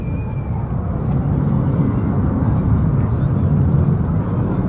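A Red Arrows display jet flies past at the English Riviera Airshow in Paignton, a loud, steady broadband roar that holds throughout without fading.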